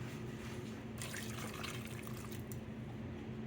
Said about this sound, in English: I'm going to add another cup of water in there just to cover them